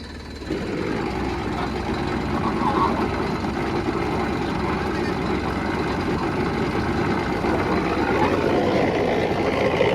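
A tractor engine runs with the accelerator applied, a heavy continuous low-pitched drone that builds slightly after a brief start and holds steady and loud for the whole stretch.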